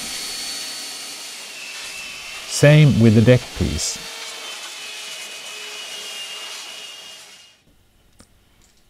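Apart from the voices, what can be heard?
vacuum cleaner removing sanding dust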